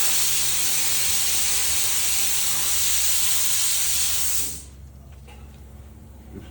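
Air hisses loudly and steadily from a leaking car tire for several seconds, close up, then cuts off abruptly, leaving faint background noise with a few soft knocks.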